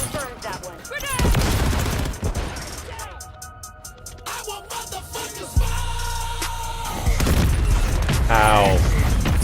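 In Call of Duty Modern Warfare III, heavy gunfire rattles in rapid bursts, and a deep booming grenade explosion hits midway and rumbles on, with shouted voices over the combat.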